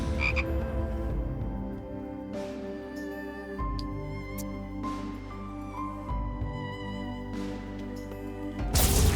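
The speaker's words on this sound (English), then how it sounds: "Frogs." Frogs croak in a video game, loud rhythmic repeated croaks layered over a droning musical background, with no talking.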